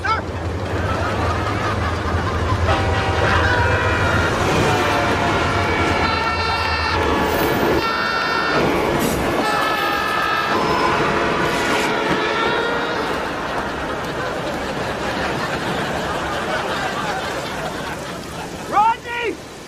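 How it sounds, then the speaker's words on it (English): A train draws closer, a low rumble at first and then long, loud, droning horn blasts through the middle before fading, with people talking over it. "Sounds like that train's getting closer."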